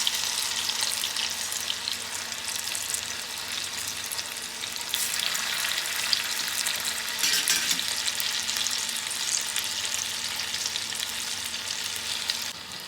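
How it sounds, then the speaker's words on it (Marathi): Moong dal pakodas deep-frying in hot oil, a dense, steady bubbling sizzle that carries on evenly for the whole stretch without any talk. "भजी शेकले एक साईडने"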